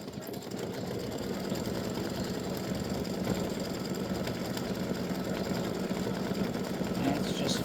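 An embroidery machine stitches a face onto a pumpkin hat in bright yellow thread, its needle hammering in a fast, even mechanical rhythm that runs close and continuous throughout.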